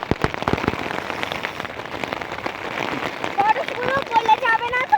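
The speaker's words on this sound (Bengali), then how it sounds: "এরকম ঝড় বৃষ্টি হচ্ছে" Heavy rain and hail beat down steadily on the Dayara Bugyal mountain trek, a dense patter of close impacts that swells louder toward the end, with voices faintly present.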